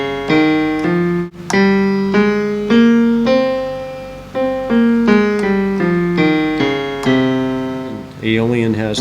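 A C Phrygian scale is played note by note as a steady run of sustained, ringing pitched tones, each clearly separated, with a brief sharper flourish at the end and no talking.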